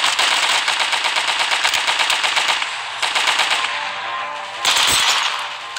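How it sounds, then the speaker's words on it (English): An MP40 submachine gun fires in a first-person shooter video game, rapid automatic bursts rattling loud and close, with a short pause before another burst and a final sharp volley. "the MP40 kind of shreds people up close. That's what I'm doing."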